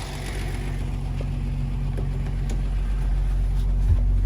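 A 1949 Willys Jeepster with a six-cylinder engine idles steadily nearby, a low even rumble with faint ticking and no change in pace.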